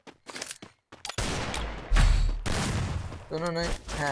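Bursts of gunfire from the video game Free Fire crack out in rapid volleys, loud and close, while a player talks excitedly between and over the shots.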